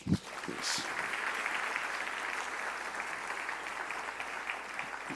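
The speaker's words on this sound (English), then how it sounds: "So I would like you to give them a loud applause." Audience applause for a swing band from Hanoi, Vietnam, at an ASEAN event: a dense, steady wash of clapping from a sizeable crowd, holding evenly for several seconds after a brief louder burst at the start.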